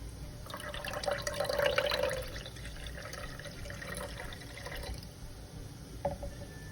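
Dashi stock is poured into a beaten egg mixture for chawanmushi, a gentle liquid trickle and splash that swells and then fades, ending with a small clink.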